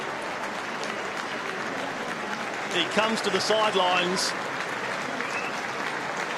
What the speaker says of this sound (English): justifiably earns the applause from his fans, members and fans